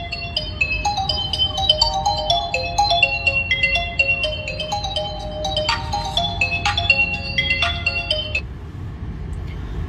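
Mobile phone ringtone playing a bright, repeating electronic melody inside a Tata Safari, steady and fairly loud over a low background hum, with no talk.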